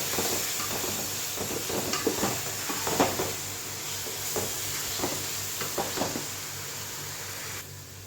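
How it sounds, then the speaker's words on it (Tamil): Ginger garlic paste sautés with tomatoes in a pot for a large batch of mushroom biryani, a constant hissing sizzle with scattered ladle scrapes and knocks against the metal, moderately quiet and without talking. "இஞ்சி பூண்டு பேஸ்ட் நல்லா வதங்கிடுச்சு."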